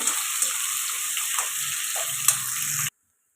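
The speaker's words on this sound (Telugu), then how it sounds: "ఆనియన్స్ బాగా ఫ్రై అవ్వాలండి ఆయిల్లో ఫ్రై అయిపోవాలి బాగా" Onions frying in oil for chicken biryani give a continuous bright hiss with some watery bubbling and faint stirring knocks, close and steady, then cut to silence near the end.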